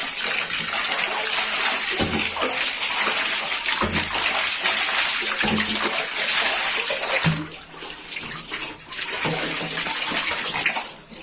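Water gushes steadily from a tap at a home in Uttarakhand, a loud, close, continuous hiss and splash that barely lets up over the whole stretch, with no talking.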